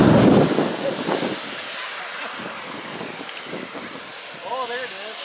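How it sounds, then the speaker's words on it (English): Radio-controlled model jets, 3D planes, turboprops and helicopters flying at an outdoor R/C airshow give a steady, fairly loud engine whine and roar across the whole stretch, with people talking nearby over it. "Hey, there's gonna be a lot of airplanes up here."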